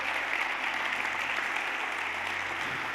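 Church congregation applauding God during a sermon, a steady, fairly faint wash of clapping throughout with a low hum beneath.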